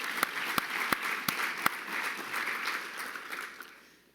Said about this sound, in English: Let's give all of our BOC members a round of applause.